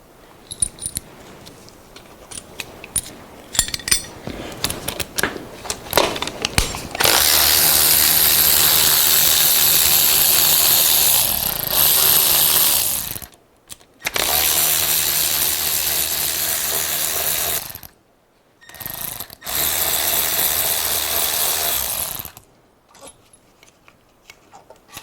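An air ratchet spins out intake manifold bolts on a Mercedes Sprinter van in three loud, steady bursts of several seconds each, with short pauses between them and a few light metallic clicks of tools before the first run.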